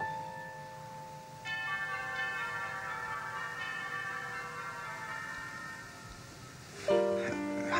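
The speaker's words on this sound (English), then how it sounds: "How do you sleep through those bells?" Church bells ring out in a sustained, layered peal, their tones overlapping and lingering, with a fresh louder strike near the end.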